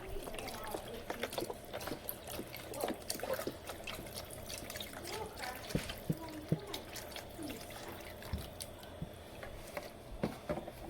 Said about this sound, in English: Pour in my chicken broth.